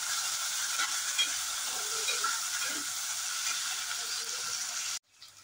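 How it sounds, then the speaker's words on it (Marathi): Potato pieces and green chillies fry in ghee with a steady, close crackling sizzle and soft stirring scrapes, then the sound cuts off abruptly near the end. "मिरच्या चांगल्या परतल्यानंतर ह्याच्यात बटाटा घालायचा आहे, तो चांगला असा तुपात परतून घ्यायचा आहे"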